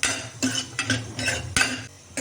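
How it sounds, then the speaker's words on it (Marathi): Cashews roasting in a pan for a village-style kofta curry, close metallic scrapes and clinks of a spoon stirring against the pan in a quick uneven rhythm, with a faint sizzle beneath and no talk. "आता आपण काजू पण थोडे भाजून घेणार आहोत"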